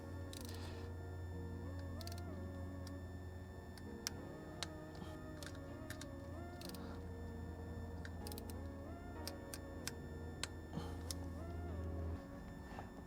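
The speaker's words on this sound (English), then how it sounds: "As you can see, I turn, handle clicks, time to move on to the next bolt." A torque wrench handle on the spark plug bolts of a Nissan R35 GT-R gives sharp, faint clicks, scattered singly and in small clusters over a low steady hum.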